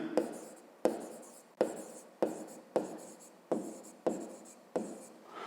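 Pen strokes on paper while a math solution for a 5th-grade exercise is written out by hand: close, rhythmic scratching bursts, about eight of them at steady intervals, each starting sharply and then fading, with no talking.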